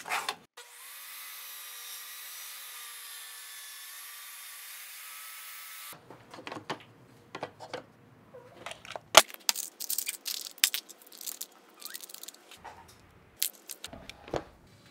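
A saw rips a wooden board lengthwise in half in a workshop, a steady, fairly quiet whine for several seconds, then stopping and giving way to scattered knocks and handling clatter.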